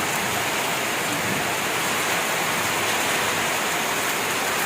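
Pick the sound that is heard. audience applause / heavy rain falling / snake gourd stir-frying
heavy rain falling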